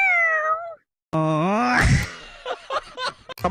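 A man in a classroom imitates a cat with a drawn-out wavering meow, then breaks into a loud groaning wail followed by short voiced bursts.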